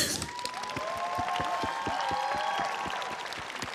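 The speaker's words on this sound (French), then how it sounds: "Cédric, Sébastien, qu'on peut applaudir bien fort s'il vous plaît." An audience applauds at a prize ceremony during the TGS Toulouse 2021 gaming event, with dense, steady clapping and a few faint cheers over a sustained tonal hum.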